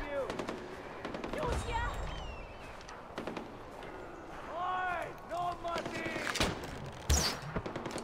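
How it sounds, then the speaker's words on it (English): Gunfire crackles in Far Cry 4: rapid automatic bursts and scattered single shots come in uneven clusters, loud and punchy, with voices talking over parts of the exchange. "Who is shooting?"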